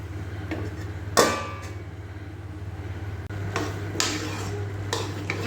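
A metal lid is set onto a pot of simmering ridge gourd curry, giving one sharp clatter followed by a few lighter knocks and scrapes over a steady low hum.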